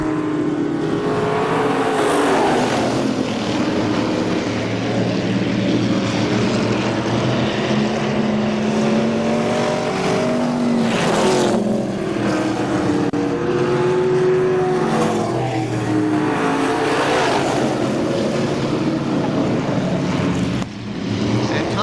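Race cars roar around the KilKare Speedway track, a loud continuous engine din that swells and fades as cars pass close by, with no talk over it.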